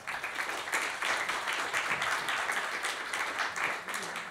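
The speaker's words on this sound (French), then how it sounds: "Vous pouvez l'applaudir." An audience at a talk on video games and fear applauds a guest, a continuous wash of many hands clapping at a steady level throughout, fairly close and without speech on top.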